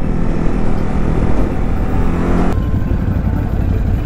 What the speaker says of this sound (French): Et ça pétarade bien